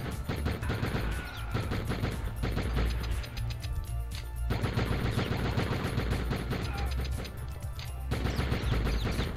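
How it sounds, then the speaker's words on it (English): Sustained machine gun bursts in a video game, dense rapid shots running almost the whole time with brief lulls, loud and close. "Oh, I got a machine gun now."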